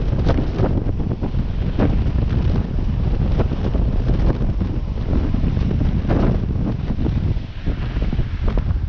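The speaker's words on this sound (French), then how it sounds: "Belle rafale." A strong gust of around 32 knots buffets a sailboat crossing the Strait of Bonifacio, with loud, continuous roaring wind noise battering the microphone and rushing water beneath, no talking.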